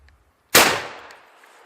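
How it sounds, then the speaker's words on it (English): Shotgun firing a Remington Gun Club shotshell, one sharp loud blast out of near silence with a reverberant tail fading over about a second. "Here goes the Remington Gun Club."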